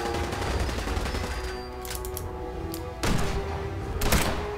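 Gunfire from weapons in Fallout 4 during a fight with super mutants, heard as loud, close bursts of rapid shots with sharp separate cracks and heavy impacts over a dense wash of game noise.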